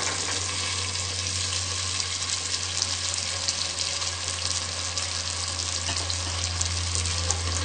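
Green peas tossed in with potatoes already frying in a pan give a steady, dense sizzling hiss, unbroken and close throughout, over a low constant hum.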